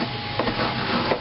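Rosemary being crushed and ground for a fish marinade, giving soft, steady scraping and rubbing with a few slightly firmer grinding strokes, close and fairly quiet with no talking.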